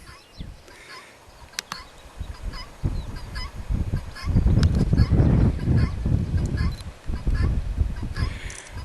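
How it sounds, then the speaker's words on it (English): A guinea fowl calls repeatedly on a farm path on the North York Moors near Goathland, loud harsh honking cries growing stronger midway, heard close with outdoor ambience and little talk. "We've got a guinea fowl here,"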